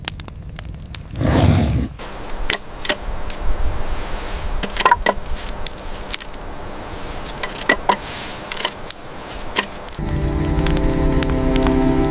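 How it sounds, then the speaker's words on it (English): A fire burns with scattered sharp crackles and pops over a low steady hum, a brief whooshing surge near the start and a denser rushing roar near the end; no voices. "The fire burns bright, keeping us safe through the night."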